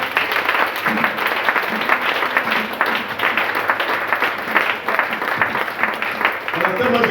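A church congregation claps and applauds in praise, a dense continuous patter that runs throughout. Voices call out underneath it.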